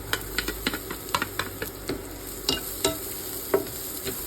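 Garlic sizzles while frying in a pan alongside onion, giving a soft continuous crackle broken by light scraping stirs, heard close and fairly quiet.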